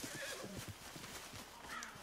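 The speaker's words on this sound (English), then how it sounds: "A horse is being stubborn." A horse in Red Dead Redemption 2 whinnies twice with hoof clip-clop between, all faint and somewhat distant in the game's audio.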